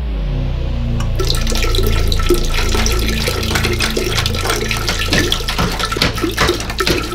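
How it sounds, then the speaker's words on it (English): A man urinating into a toilet, a loud, steady splashing stream that starts abruptly and runs continuously, close to the microphone, with no talking over it. "it's time for me to take a leak"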